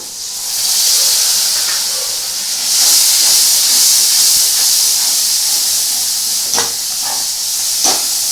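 Water poured into frying mutton keema sets off a loud, continuous burst of hissing steam that surges twice and then sputters with a few sharp crackles; no voices.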